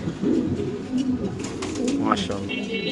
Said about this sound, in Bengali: স্প্যানিশ কবুতর ডাক না দেখালে আসলে কবুতরটা দেখতে ভালো লাগে না।